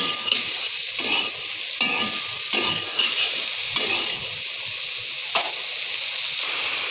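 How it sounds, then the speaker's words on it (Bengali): Cauliflower florets frying in oil with salt and turmeric, a loud close sizzle and hiss with repeated spatula scrapes and stirring knocks at a loose, uneven rhythm. "এখন এই তেলে ফুলকপিগুলো একটু ভেজে নেব"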